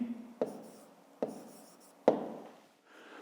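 A pen writes answers to a fifth-grade math exercise by hand, three distinct taps of the pen on paper separated by quiet stretches of soft scratching, close and faint.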